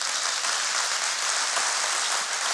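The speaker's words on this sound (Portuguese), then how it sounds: "Quero uma salva de palmas forte." A congregation at a church service claps together in strong, sustained applause, a dense, even wash of hands with no pauses and no voices standing out.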